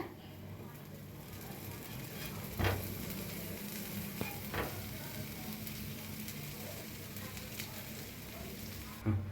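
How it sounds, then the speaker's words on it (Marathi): Buttered bread toasting in a pan makes a soft, continuous sizzle close by, with a few light scrapes and taps as it is turned. "मस्त असं ब्रेड भाजले ते आपले छान दोन्ही साईडने भाजून घेतले मस्त"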